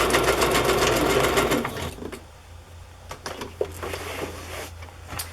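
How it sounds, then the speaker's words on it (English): A sewing machine stitches through a vintage Christmas book page for a journal, whirring in a steady close burst, then giving way to scattered soft clicks and handling taps. "I sewed right through Santa Claus's face"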